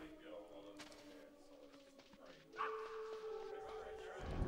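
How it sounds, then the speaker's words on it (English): Dogs in the stealth video game Metal Gear Solid yelp and bark in short, moderately loud bursts over looping game music and ambient tones, growing busier and more agitated near the end. "using the God mode exploit in this room so the dogs don't hurt us. They just kind of get angry at us and chase us around."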